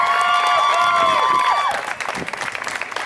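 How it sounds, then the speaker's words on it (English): Applause and cheering from the audience at a pin-up pageant at a cheese festival, dense clapping with whistles or shouts early on, then thinning to scattered claps. "give a round of applause right over here"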